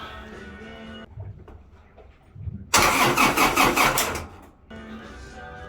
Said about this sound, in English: attempt to start generator number 2.